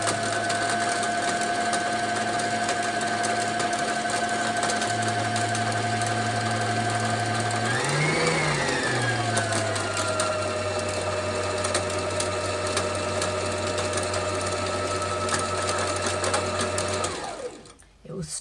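A sewing machine winds thread onto a bobbin with a steady, close mechanical whir. Its pitch rises briefly in the middle, and it runs on until it stops near the end.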